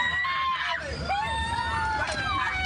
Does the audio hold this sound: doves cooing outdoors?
no